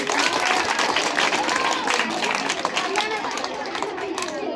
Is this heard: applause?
yes